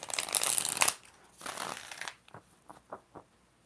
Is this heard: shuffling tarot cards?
yes